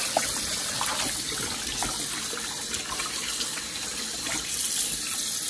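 Water from a kitchen tap running into a sink while raw meat is rinsed, a steady close splashing gush with small trickles that continues throughout.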